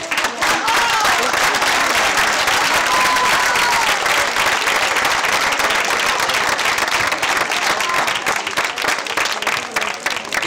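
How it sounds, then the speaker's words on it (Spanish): Sustained, loud applause from a large audience at a drummers' competition, a dense, continuous clatter of clapping lasting about ten seconds with faint voices and a whistle underneath. "Y aplauso."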